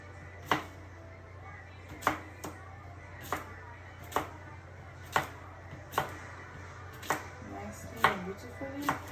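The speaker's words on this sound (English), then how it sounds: "I'm gonna chop them like this." Knife chopping cucumber halves on a board, about ten crisp, evenly spaced strikes roughly one second apart over a faint steady background hum, no talking.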